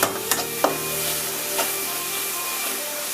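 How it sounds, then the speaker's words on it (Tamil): Tomato sautéing in oil with ginger-garlic paste for a crab curry, a steady broadband sizzle with a few sharp stirring clinks, close and fairly quiet, with no talking. "அதுக்கப்புறம் நம்ம தக்காளி போட்டு நல்லா வதக்கலாம்."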